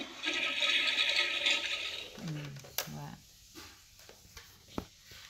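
A toy toilet gives a short flushing whoosh and gurgle with a brief tonal swirl, close by, as children talk and play around it.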